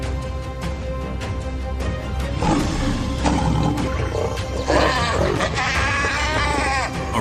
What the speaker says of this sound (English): A roar shook the earth